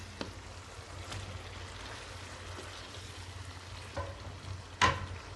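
Chicken liver (kaleji) fries in masala in a pan, a faint, low sizzle with a few soft spoon clinks as it is gently stirred.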